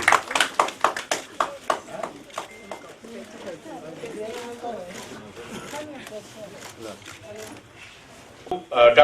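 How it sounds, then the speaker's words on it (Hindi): A small crowd at a Women's Day celebration gives Dr. Jyotsna a burst of sharp, close handclaps that fades into talking and murmuring, then a few more claps return at the end. "डॉक्टर ज्योत्सना जी का जोरदार तालियों से भी हम अभी स्वागत"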